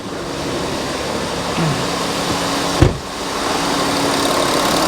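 A Volkswagen Touareg engine runs at a steady idle in the engine bay after repairs, a constant close hum with a brief knock or clunk partway through.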